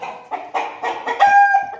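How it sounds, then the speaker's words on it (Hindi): Aseel chickens and roosters cluck in a steady run of short, loud calls close by, with one longer sustained note near the end and no talking. "उसमें मुर्गियाँ भी हैं"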